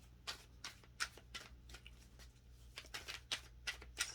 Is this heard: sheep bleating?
no